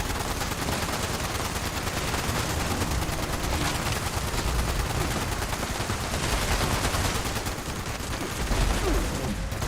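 Sustained gunfire from another player's gun in Fallout 76, rapid automatic shots rattling nonstop and loud, packed into a dense unbroken barrage with no talk over it.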